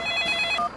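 An old-style telephone bell rings in a cartoon, a short bright trill heard up close that cuts off abruptly after under a second, with no voices over it.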